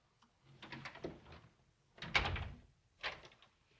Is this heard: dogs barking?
no